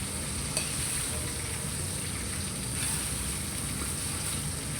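Rice sizzling and frying in a pan while being stirred, a steady, close hiss with soft scraping throughout, no talk.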